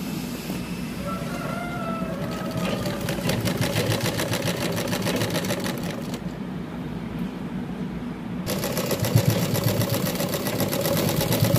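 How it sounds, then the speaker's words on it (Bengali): A sewing machine stitching a round neckline on a garment, running as a steady, close mechanical whir with a rapid needle rhythm that continues throughout without a break. "এই যে এখন গলাগুলো সেলাই করে নিব। একটু গোল গলা সেলাই করছি।"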